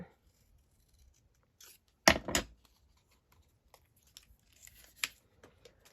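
Scissors trimming paper for a journal: one or two quick close snips, with soft rustling and handling noises around them in an otherwise quiet room.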